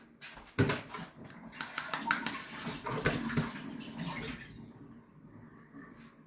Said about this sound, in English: Let me just give that a rinse.